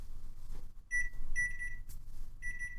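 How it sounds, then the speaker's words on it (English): Kitchen timer going off during avocado chip cooking, sounding in short bursts of high electronic beeps with gaps between them, clear and close. "Buzzer's going off again."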